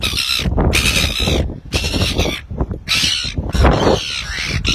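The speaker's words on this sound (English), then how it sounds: "Some little baby birds just here." Baby birds on the roof of a fishing boat give loud, harsh, squawking calls in repeated bursts close by, with brief gaps between them.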